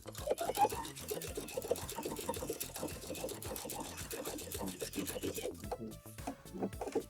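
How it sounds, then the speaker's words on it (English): A sewing machine runs a straight stitch to join a pocket facing to a pocket bag, giving a close, rapid mechanical whir of needle strokes that runs steadily and then slows near the end. "now we're just gonna stitch all of those edges together"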